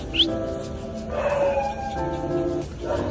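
A female dog at Gaffar market in Karol Bagh lets out a few short yips and whimpering barks. A busy street murmur runs underneath.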